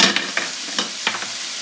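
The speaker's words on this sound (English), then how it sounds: "Fry the chicken, the onion and the garlic until it's nice and brown." Chicken pieces with onion and garlic sizzle steadily in a hot pan, with a constant loud frying hiss broken by a few scraping stirs.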